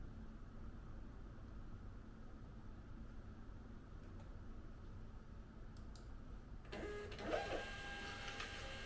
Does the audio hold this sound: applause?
no